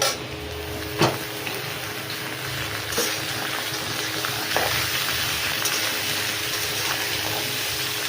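Meat frying with well-browned onions in a pan, a steady moderate sizzle broken by a few sharp clunks of utensils against the pan, no voices.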